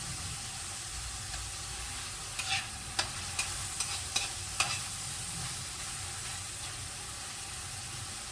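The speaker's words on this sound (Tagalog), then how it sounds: "inuuna ko munang kamatis kasi medyo luto-lutuin ko muna yan. Tapos ilagay yung bawang sibuyas. Parang ipipreto muna." A steady sizzle of tomatoes, garlic and onion frying in a pan for a Filipino vegetable sauté, with a few sharp clicks of a utensil stirring against the pan midway, otherwise a continuous even hiss.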